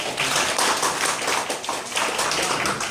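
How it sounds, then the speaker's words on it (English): A round of applause at a press conference for a music project: dense, even clapping from a crowd, loud and close, sustained for the whole three seconds. "Round of applause to the maestro."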